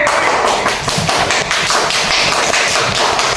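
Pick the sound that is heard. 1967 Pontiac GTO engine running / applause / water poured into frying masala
applause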